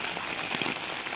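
Steady rain falls in a theme garden in Thane, a faint, even hiss of drops on surfaces with no talking.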